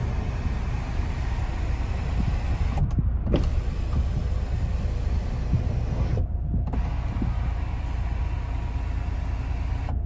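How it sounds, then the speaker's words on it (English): Electric sunshade on a Mahindra XUV700 AX7L sliding open inside the cabin, a steady motor whir with a mechanical hum running continuously for about ten seconds, close and even, with brief dips where the drive pauses. "I'll have to open this sunshade."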